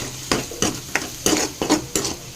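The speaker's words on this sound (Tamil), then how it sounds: "இப்போ இதை நல்லா பொடி பொடியாக முட்டை பொரியல் மாதிரி கிண்டி விட்டுலாம்" Egg-scramble-style mixture stirred in a pan, with about seven regular scraping strokes of the spoon against the metal over a steady low sizzle, close and clear.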